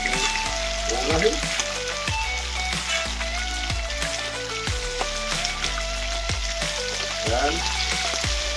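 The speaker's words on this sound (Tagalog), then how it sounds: "ilalagyan natin yung ating iprituhin bluefin tuna" Bluefin tuna frying in a pan gives a steady, close sizzle with crackling pops throughout, under a layer of background music with sustained tones.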